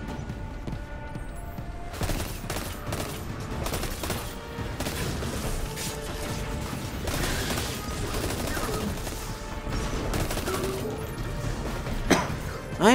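Rapid bursts of gunfire in the video game Destiny 2, dense repeated shots with sharp cracks scattered across a busy mix of effects and music, fairly loud and continuous.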